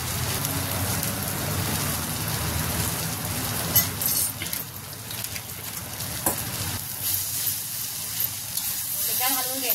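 A spatula stirs Bombay duck and potato curry with coriander powder, garam masala and salt in a hot pan, giving a steady close sizzle broken by scraping strokes and a few sharper clatters.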